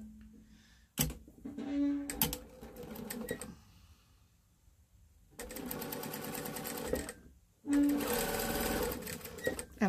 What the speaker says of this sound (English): I usually just sew straight across the bridge of the nose so I get to the other side